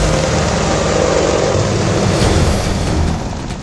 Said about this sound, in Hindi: आसमान में अपाचे हेलीकॉप्टर दहाड़ रहा है।